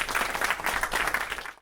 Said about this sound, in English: a round of applause to Michelle Partington, Annie O'Toole and Nathan Alamenni